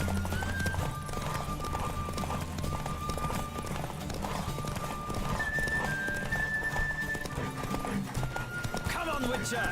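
A horse gallops in The Witcher 3 with continuous close clip-clop hoofbeats, a brief whinny, and game music and voices talking over the riding.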